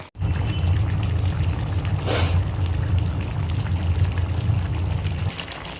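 Ghee and garam masala go into a simmering jackfruit curry (echor kalia): a steady low bubbling rumble from the pot runs throughout, with a brief soft pouring hiss in the middle.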